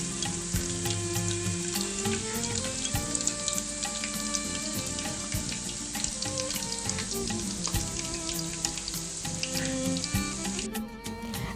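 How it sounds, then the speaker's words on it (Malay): Spoonfuls of batter fry in hot oil over medium-high heat, giving a continuous dense crackling sizzle with sharp pops throughout and no voices. "Bolehlah kita mula menggoreng."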